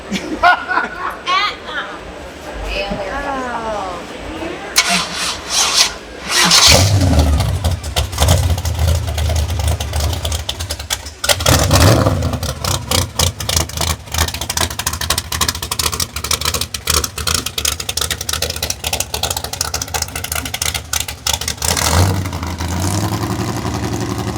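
A Tunnel Ram 5.0 Pinto station wagon gasser with dual quad carbs idles roughly and revs in loud, choppy bursts, with people talking over it nearby.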